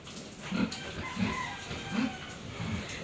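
A mother hen on a backyard farm with pigs nearby gives four low, evenly spaced clucks about two-thirds of a second apart, close and moderately loud over a hissy outdoor background.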